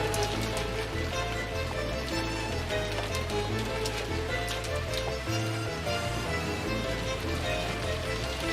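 Rain ambience from the Umineko visual novel game, a steady wash of falling rain and patter running continuously under a low droning music bed.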